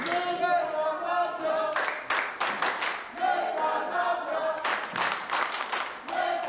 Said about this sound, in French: Et la foule en délire.